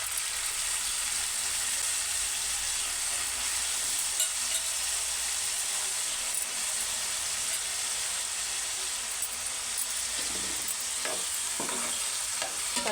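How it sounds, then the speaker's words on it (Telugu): Paneer frying in a pan with onions and green chillies, a steady loud sizzle with occasional stirring scrapes and clicks near the end. "ఇలా పన్నీర్ వేయించుకొని ఇందులో మనము ఆనియన్స్, పచ్చిమిరపకాయలు వేసుకుందాం"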